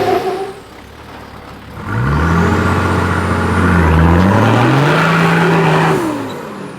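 A 4x4 engine on a rough mountain track revs hard to warm its tyres, rising from a low idle into a loud, sustained roar with wavering pitch for several seconds before easing off.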